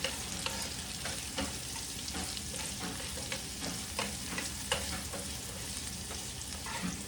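Ingredients for pakbet sauté in a pan with a steady hissing sizzle, while a spoon stirs and scrapes at irregular intervals, close and continuous with no talking.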